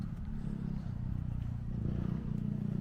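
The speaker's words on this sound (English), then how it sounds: "That's a Yoshimura exhaust if ever I heard one." A motorcycle fitted with a Yoshimura exhaust, likely a Honda Monkey bike, burbles faintly in the distance as it climbs a lane, a low steady engine drone heard alone.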